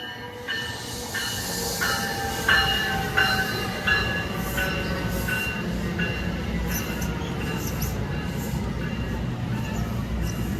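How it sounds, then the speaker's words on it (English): An NJ Transit commuter train rumbles steadily into Edison Station, New Jersey, wheels clacking in a regular rhythm with occasional squeals and hiss, close and continuous. "Coming into Edison Station now is NJ Transit train number 7833."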